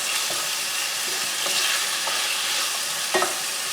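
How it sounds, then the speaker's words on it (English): Onions sautéing on high heat in a pan for a quinoa stir fry, a steady close sizzle with a few soft utensil scrapes and stirs across the span, no voices. "we're going to let this saute"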